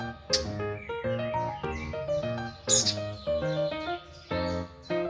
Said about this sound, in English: The baby bird gets really excited when he hears bird sounds, huh?